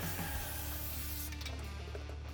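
Brake cleaner hisses from an aerosol can onto the brake hardware of a 1996 Chevrolet C-1500 pickup, a continuous close-up spray lasting a couple of seconds with a slight rubbing texture.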